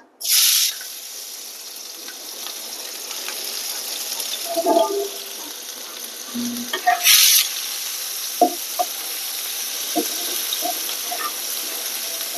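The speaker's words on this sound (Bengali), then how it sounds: "পেঁয়াজ দিলাম, আগে তেল দিছি, তেলটা গরম হয়ে গেছে" Onions sizzling in hot oil for a rui fish bhuna, a steady broadband fry from the first second, with brief stirring knocks and utensil clinks scattered through.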